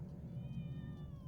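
Billy, a man hidden in a sorority house attic in Black Christmas (1974), imitates a cat with a drawn-out, wavering meow over a low, steady rumble of background noise.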